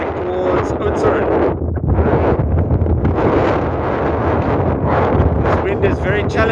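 A strong headwind buffets a cyclist's microphone on a country road, a loud, continuous roar with gusty swells, and someone speaks through it.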